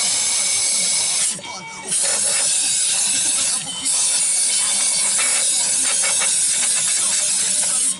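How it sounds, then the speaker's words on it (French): A small wire brush scrubs the inner rim and edges of a car part during drift-event preparation, giving a steady, loud, close hissing scrape that runs almost continuously with two short pauses. "Donc tout l'intérieur, tout le bord, avec une petite brosse de fer."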